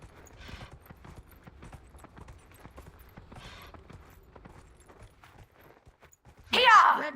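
A horse's hooves clip-clop in steady rhythm while being ridden in Dragon Age: Inquisition, the footfalls moderately loud throughout, followed by a sudden louder burst near the end.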